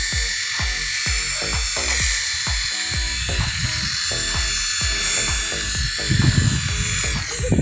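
A mini RC helicopter flies close by with a high, steady electric whine and a fast, pulsing rotor chop that continues without a break.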